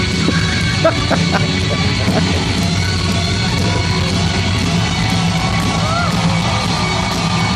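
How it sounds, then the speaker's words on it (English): Concert crowd at a Bon Jovi show cheering wildly, a dense steady roar of yells and whoops with music underneath, loud and continuous throughout. "The crowd is going wild."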